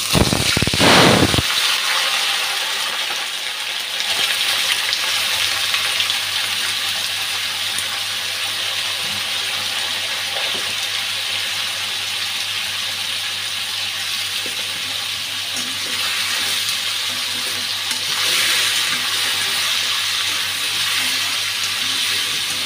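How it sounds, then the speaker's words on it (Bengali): Potato pieces fry in hot oil for a prawn curry, producing a loud, steady hissing sizzle that bursts in sharply at first and then holds evenly, with no talking. "তেলটা গরম হয়ে গেছে, আলুটা ভাজতে দিয়ে দিচ্ছি"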